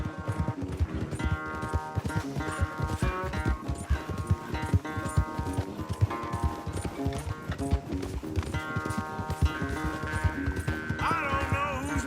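A horse gallops in a race in the video game Red Dead Redemption 2. A rapid, steady drum of hoofbeats runs throughout, close and loud, over a sustained musical score with faint voices.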